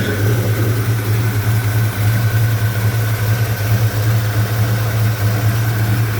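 Old 1984 Chevy C10 pickup engine idling steadily after a cold start, a low even rumble with a constant hum and no revving, close and alone.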